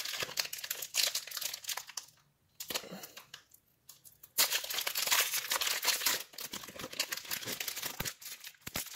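Hockey card pack wrappers being torn open, loud close crinkling and tearing of foil plastic in bursts with a brief quiet pause in the middle.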